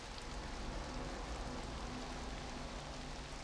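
Rain in the online fantasy game Rift makes a steady, dense hiss of falling water that stays even and unbroken, a soft close wash with no voices over it.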